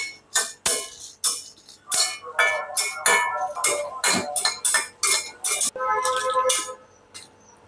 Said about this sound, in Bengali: প্রথমে আমি কড়াই নিয়েছি, নিয়ে প্রথমেই শুকনো মরিচটা দিয়ে একটু টেলে নিচ্ছি